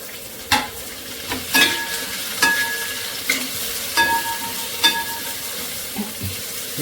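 Sliced onions and green chillies fry in a pan for a Kerala-style pork dry fry, soft sizzling broken by a series of sharp spatula scrapes and stirring knocks at irregular intervals, close up with no talking.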